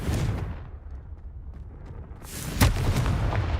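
Confringo fire spell blast in Hogwarts Legacy, a booming burst with rumbling roar, a sharp crack near the end, heard alone without talk.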